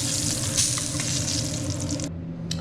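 Steady sizzling and crackling of steak on a hot cast iron sizzle plate, continuous and close, with a brief quiet dip near the end before the hiss returns.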